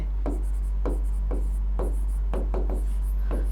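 Chalk or marker writing on a classroom board during a math lesson: a steady series of short scratchy strokes, roughly one every half second, close and distinct over a constant low hum.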